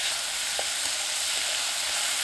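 Salted zucchini and minced garlic stir-fry in a pan over medium-low heat, giving a steady, close sizzle with a few faint clicks of stirring.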